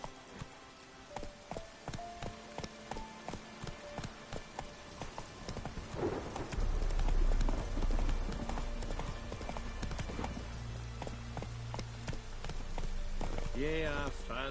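Horse hooves clip-clop steadily in The Witcher 3, a rhythmic trot of sharp close knocks that gives way to heavier game ambience with rain-like hiss, while a voice speaks over it.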